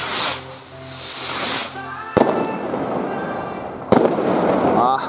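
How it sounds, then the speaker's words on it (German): Gold Willow firework rockets whooshing up with a hiss, followed by two sharp bursts and crackling trails outdoors, loud and fairly close, with people talking in the background. "Und dann als nächstes nochmal eine Gold Willow."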